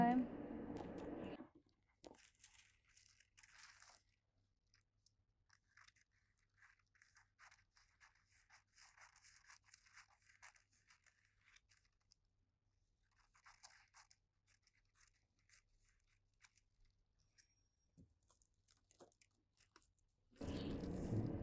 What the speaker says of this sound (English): Next, I need to cut the drawn line.